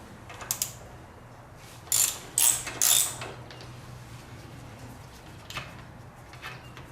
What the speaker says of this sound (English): And now we'll take the fill bolt out.